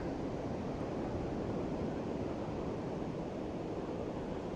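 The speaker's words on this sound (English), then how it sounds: "The waves are still gently crashing into the shore." Low-tide sea waves wash gently onto a beach at sunset, a steady soft roar of surf heard from a distance with faint wind noise and no voices.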